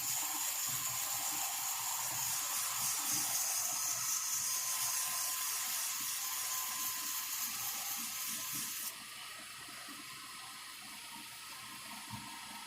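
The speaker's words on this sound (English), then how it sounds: "So I'm just going to continue with my 320 grit until I get it down to the shape I want." Pen blank spinning on a lathe at about 1600 RPM while being sanded with 320 grit sandpaper: a loud, continuous hissing rush over a steady motor hum, shifting slightly in tone partway through.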